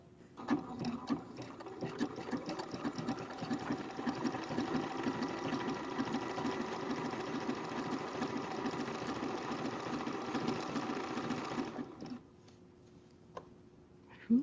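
A home sewing machine running a honeycomb overlock stitch buzzes in a steady, rapid mechanical rhythm for about eleven seconds and then stops, leaving quiet room tone.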